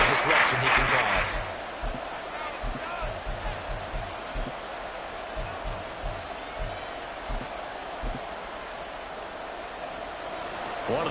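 An Eagles vs Bears American football game fills a stadium with a roaring crowd, loudest in a burst at the start, then settling into a sustained, dense wash of cheering with scattered claps and shouts.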